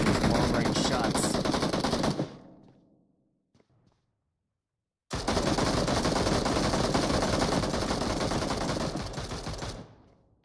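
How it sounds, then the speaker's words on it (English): Long bursts of rapid automatic gunfire crackle in PUBG Mobile, loud and sustained, break off into a short near-silent gap, then resume just as dense before stopping. "Definitely some long-range shots."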